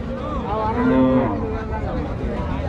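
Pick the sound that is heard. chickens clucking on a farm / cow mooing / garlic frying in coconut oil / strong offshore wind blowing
cow mooing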